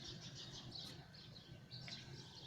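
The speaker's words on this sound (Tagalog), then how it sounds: "Ang ingay ng ibon." Small birds chirp and tweet repeatedly outdoors near a house gate on a cold morning, their calls bright and fairly close over a low steady background rumble.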